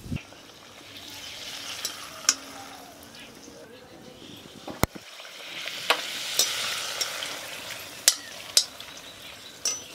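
Golgappa puris of semolina and flour frying in hot oil make a continuous crackling sizzle, with sharp clinks and taps of a utensil turning them, close by, while a voice talks over part of it.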